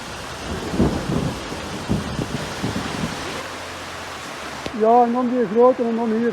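Heavy rain pours down in a steady roar with low rumbles of thunder during a hike in Mpumalanga, South Africa, then a voice speaks briefly at the end.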